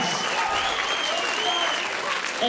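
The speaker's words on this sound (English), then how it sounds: "Let's give a round of applause for Miss Rosa Parks." An audience at a Black History program applauds with dense, steady clapping that fills the whole stretch at an even, loud level, sounding like a large indoor crowd with a few cheers mixed in.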